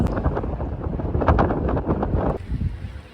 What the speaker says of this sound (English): I was really captivated in watching the sand be blown by the wind.